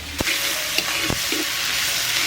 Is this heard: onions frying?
yes